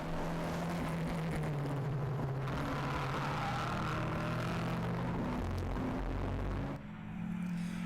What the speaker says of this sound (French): on embarque dans la Ford Escort RS 2000 de Jean-Paul Guerdou